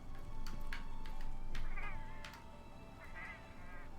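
A Palico cat in the video game Monster Hunter World Iceborne lets out two or three short meows among clicks and game ambience, fairly faint and brief.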